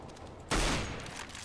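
One sharp, close gunshot in the CS:GO video game cracks out of low background noise and tails off into a brief decaying echo.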